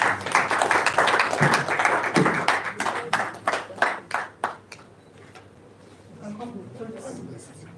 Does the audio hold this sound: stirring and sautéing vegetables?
no